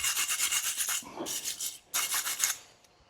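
Brisk scrubbing and rasping on the metal brake pad carrier of a Mercedes Sprinter's front brakes, in quick back-and-forth bursts with short pauses between them.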